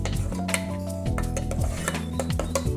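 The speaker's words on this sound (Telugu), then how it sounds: "సో అన్నీ కలిసేలాగా బాగా మిక్స్ చేసుకోవాలి" A spoon stirs a curry masala mixture for coconut curry in a metal pan, producing repeated scraping and clinking strokes at close range in an uneven rhythm, with a faint sizzle underneath.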